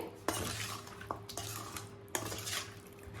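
Chicken pickle with lemon juice is stirred in a pot, a spoon clanking against the metal several times amid close scraping sounds.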